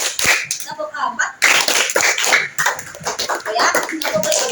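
Children in a third-grade classroom clapping their hands in a counting clap game: sharp, close claps in a quick irregular rhythm, mixed with voices talking over them.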